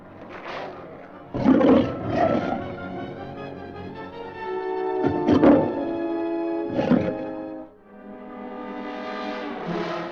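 A lion roars repeatedly while held with a rope around its neck in the desert, with loud, deep bursts that rise and fall between rumbling growls, close and alone.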